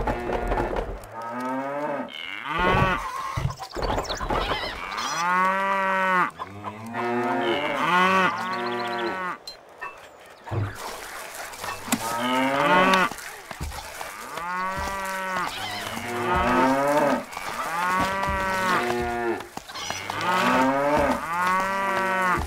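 Cows in the Stronghold medieval strategy game, a herd lowing in repeated long moos, several overlapping and close, one after another with brief pauses, with no talk.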